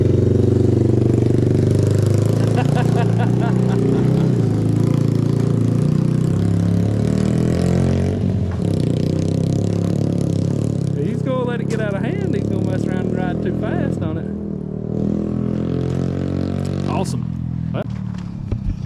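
A Yamaha TTR-90 dirt bike engine runs steadily at close range, with people talking over it throughout.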